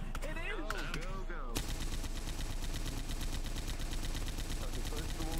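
Rapid automatic gunfire in a video game training session, a dense continuous burst of machine-gun shots with brief speech at the very start before the firing takes over.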